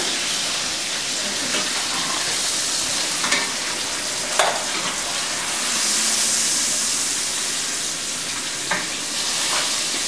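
Breaded milanese cutlets fry in a pan with a steady, close sizzle that holds for the whole stretch. A few sharp clinks and scrapes break through it.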